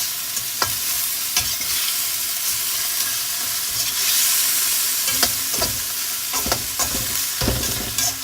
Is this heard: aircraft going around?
no